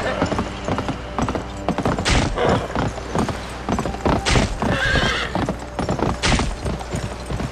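A horse in the western video game GUN gallops with rapid, rhythmic hoofbeats and lets out loud whinnies, close and prominent throughout.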